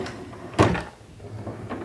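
A child's dresser drawer slides open with one short, fairly loud scraping thump, followed by quieter shuffling and rustling in a room.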